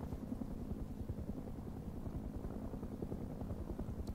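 A helicopter in the survival video game Rust flies somewhere distant, its faint, steady rotor chop and low rumble droning throughout.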